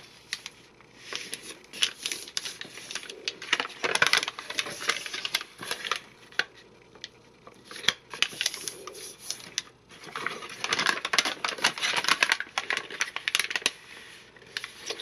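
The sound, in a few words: folding and creasing paper for a bookmark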